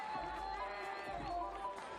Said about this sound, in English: The crowd in Guadalajara just enjoying the feast of volleyball here